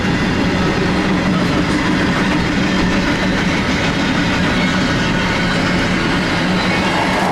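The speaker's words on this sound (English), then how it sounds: "I'm gonna let the train get ahead just a moment." A train rolls past on the Needles Subdivision, a loud, steady roar of rail cars with faint wheel clatter running unbroken throughout, close to the listener.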